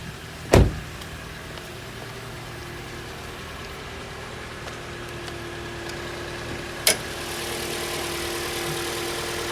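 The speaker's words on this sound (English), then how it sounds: "have a listen to the engine, have a look at the engine bay." A 2017 Toyota Corolla Ascent engine idles steadily at close range, a low even hum with two sharp knocks or clicks near the start and toward the end.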